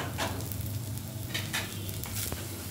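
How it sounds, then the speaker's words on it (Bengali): Onions frying in a pan at home, sizzling steadily while a spoon stirs them in repeated scraping strokes, close and continuous with no talk. "পেঁয়াজটা দেখুন ভাজা ভাজা হতে শুরু করেছে, লাল লাল হয়ে গেছে।"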